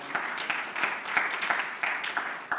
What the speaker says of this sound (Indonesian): Yang mengerti, tepuk tangan bagi Tuhan Yesus.